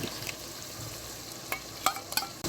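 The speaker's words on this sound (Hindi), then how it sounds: "और ये सारे दही वाले मिसाले हम डाल देंगे कढ़ाई में।" Yogurt-based spice mixture hitting a hot kadai for a karela chana dal dish, a soft steady sizzle with a few sharp stirring clinks and scrapes near the end, no voices.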